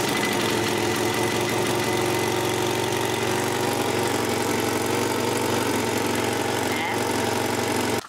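Youngtimer car engine after a spark plug change, running at a steady, rough idle for several seconds, loud and close, with a faint knocking texture before it cuts off at the end.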